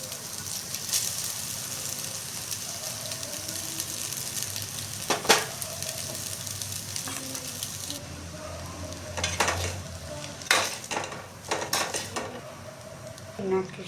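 Chow bean noodles with carrot, onion, capsicum, soy sauce, chilli sauce and tomato sauce being stir-fried, a quiet sizzle under clinking and scraping of a utensil against the pan, with sharp metallic knocks in the second half.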